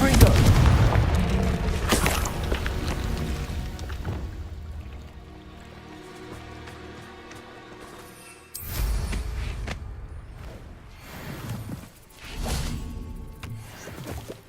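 The Confringo fire spell from the game Hogwarts Legacy bursts in heavy booming blasts with whooshing tails. A loud hit opens the stretch, then quieter rumbling, and two more strong blasts follow near the end.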